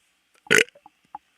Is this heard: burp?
yes